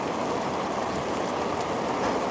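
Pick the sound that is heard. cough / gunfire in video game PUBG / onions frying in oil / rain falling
rain falling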